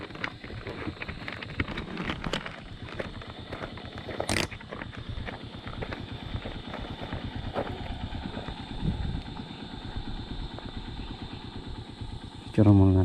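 Motorcycle engine running on a rural access road in the San Jorge area of Samar, a steady mid-distance drone with a louder burst near the end, while people talk intermittently over it.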